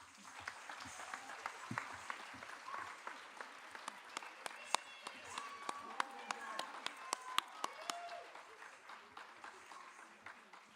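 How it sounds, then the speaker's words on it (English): Sustained audience applause fills a live Indian dance recital stage performance, a dense wash of many hands clapping steadily with scattered louder claps and some voices mixed in, continuing throughout. "Can we all have one more round of applause for all of them,"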